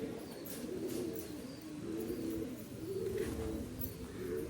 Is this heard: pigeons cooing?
yes